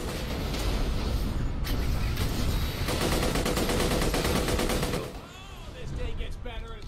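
Rapid automatic gunfire in Borderlands: The Pre-Sequel, loud dense bursts of shots aimed at turrets, with voices and game effects mixed in and a brief lull near the end.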